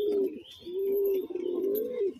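Garambaji pigeons, a male among them, coo in long, rolling, throaty phrases, close and clear, with a short pause partway through and no talking.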